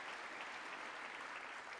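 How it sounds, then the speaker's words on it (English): A crowd of lawmakers in the US Congress claps continuously for Zelensky, a dense, even roar of applause with no break, heard at some distance and fairly quiet. "clapping"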